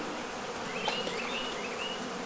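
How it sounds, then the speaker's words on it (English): Honey bees at beehive frames during a beekeeping inspection, a steady faint buzzing hum of many bees with a few louder passing buzzes, no talk. "Now see, all these bees in the front"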